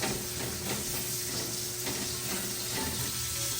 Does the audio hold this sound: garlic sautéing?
yes